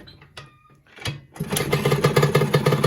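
A 1980 Suzuki RM50 motorcycle in restorable condition gives a few sputtering coughs after a kickstart push, then catches and settles into a loud, rapid two-stroke idle with a steady pulsing buzz.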